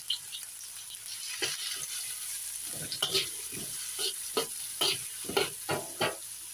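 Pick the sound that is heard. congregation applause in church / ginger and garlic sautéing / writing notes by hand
ginger and garlic sautéing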